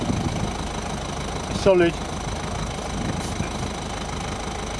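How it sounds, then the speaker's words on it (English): A car engine idles steadily at close range in a roadside check for a clunking bump under braking, a low continuous hum filling the clip while someone speaks briefly over it. "Let's pump the engine up."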